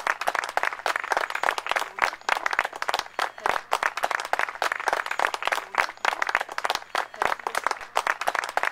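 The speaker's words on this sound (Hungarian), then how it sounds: "megérdemli a tapsot." Audience applause at an outdoor horse show in Bócsa, Hungary, steady dense clapping from a sizable crowd sustained throughout at moderate loudness, with no voices over it.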